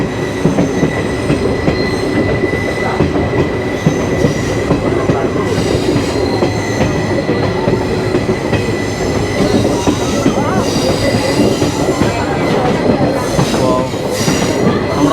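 A train rumbles past close by on the Kollam–Sengottai line, a continuous heavy roll of wheels on track with metallic squeal and clatter throughout.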